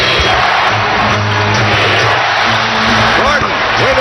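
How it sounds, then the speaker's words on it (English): Arena crowd at a 2005-06 Houston Rockets vs Chicago Bulls NBA basketball game chanting for defense, a loud sustained roar of many voices with rhythmic pulses, under steady crowd noise. "Crowd wants defense."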